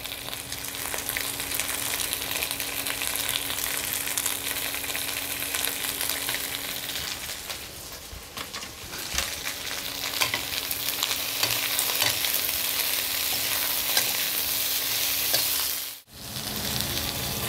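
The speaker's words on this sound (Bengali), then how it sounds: "ভেন্ডি পেঁয়াজ একটু ভাজা ভাজা হয়েছে" Okra and onion with salt frying in a pan, giving a loud continuous sizzle with faint stirring scrapes, close and steady throughout, dropping out briefly near the end, with no voices.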